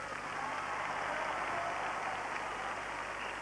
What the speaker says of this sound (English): Can we have some nice applause for all the teams?